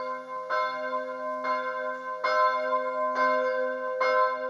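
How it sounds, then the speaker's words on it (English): Church bells of St. Jacob's in Herxheim am Berg, Germany, ring the midday call, five evenly spaced strikes over a sustained humming resonance, clear and alone. "The bells of St. Jacob's Church in a town called Herxheim am Berg, sounding the midday call."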